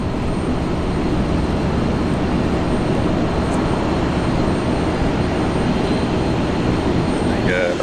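Aircraft of a 700 variant at Brisbane International Airport, a loud, steady roar of engine and wind noise that holds throughout, close by and unbroken.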